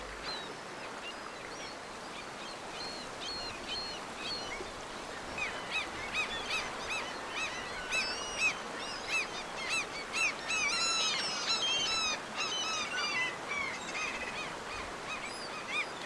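Gulls calling by a river where bears feed on scattered fish scraps, a busy flock of overlapping squawks and cries that grows denser and louder toward the end over steady flowing water.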